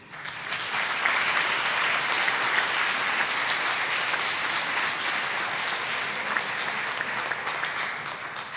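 Audience applause for honored retirees at a school district retirement ceremony, a dense, steady wash of many hands clapping that rises quickly and holds evenly for several seconds without speech.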